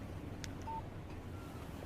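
Brief electronic beep tones from a phone text alert in the Alan Wake video game, a short bright chirp around the middle standing over a steady low background hum.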